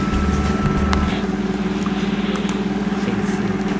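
A sugar factory centrifuge at the PG Krebet Baru I mill in Malang, slowing down while its scraper lowers the sugar. The loud, steady mechanical drone and hum is layered with low rumbling tones and occasional light knocks.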